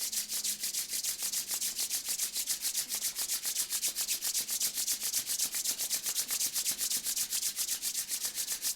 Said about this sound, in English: slowly begin to rub the palms together